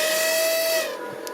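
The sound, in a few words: model hydraulic pump running short of oil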